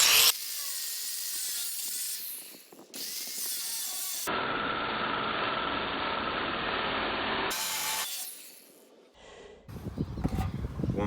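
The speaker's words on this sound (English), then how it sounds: "I'm just gonna have to use a grinder and cut through that metal there to get those out." An angle grinder cuts through old wrought iron fence metal, a loud harsh whining grind in several long passes with brief drops and restarts between them, close up and with no talking.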